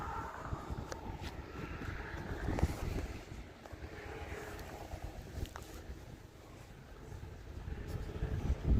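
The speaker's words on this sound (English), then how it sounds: "the wind is a little bit strong" Strong outdoor wind buffets the microphone at a model airplane flying field, producing a continuous low rumble with gusty surges that rise and fall and grow louder toward the end, with no clear speech.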